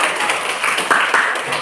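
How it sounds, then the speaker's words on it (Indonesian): An audience claps together in a classroom, a steady dense patter of applause that fills the whole moment, with a few sharper individual claps standing out near the middle. "silakan kita kembali tepuk tangan buat"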